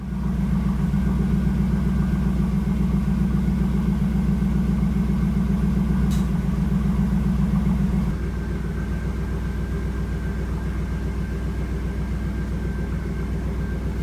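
A 1997 Chevrolet Camaro Z28 engine idles steadily up close after a new alternator install, a deep continuous drone whose tone eases slightly partway through.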